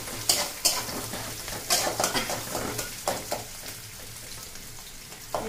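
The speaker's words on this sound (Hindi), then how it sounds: "देखिए ऑनियन और लहसुन और हरी मिर्च हल्का सा फ्राई हो गया है।" Onion, garlic and green chilies fry in a pan with a steady sizzle, broken by repeated scraping and clinking strokes of a stirring utensil.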